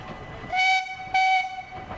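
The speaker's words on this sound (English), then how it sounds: "I don't know that I've ever seen the train running through here." A theme park train at Efteling sounds two sustained whistle blasts in quick succession over a low rumbling background, fairly close.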